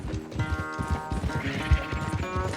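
Horse hooves galloping in the Red Dead Redemption 2 video game, with a steady, rapid clip-clop rhythm close up, mixed with game music and occasional snorts, no talking.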